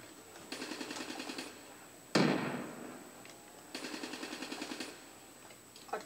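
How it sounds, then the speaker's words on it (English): Grenade blast in Black Ops 3 Zombies: a single sharp, loud burst that trails off over about a second, set between bursts of rapid gunfire before and after. "throw a grenade"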